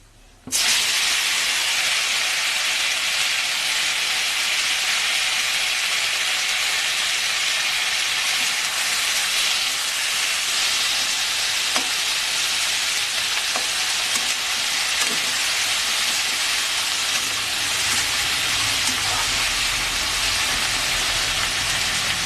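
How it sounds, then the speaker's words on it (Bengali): Tomatoes added to pan-fried five-spice (panch phoron) for a chutney set off a loud, sudden sizzle that continues as a dense, steady hiss close by, with no voices. "পাঁচফোড়নটা একটু ভাজা হয়ে গেলে এবার দিয়ে দেব টমেটোটা।"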